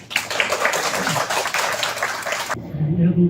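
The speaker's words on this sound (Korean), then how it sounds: "박수로 맞이했으면 감사하겠습니다." An audience at a cancer patients' testimony gathering breaks into brisk, dense applause welcoming a speaker, filling the room for over two seconds before cutting off abruptly, followed by a quiet voice beginning to speak.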